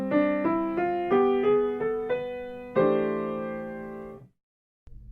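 A single melodic line on a keyboard-like instrument runs a quick stepwise diminished b6 scale over a 2-5-1 progression, then lands on a sustained chord that rings out and fades to silence.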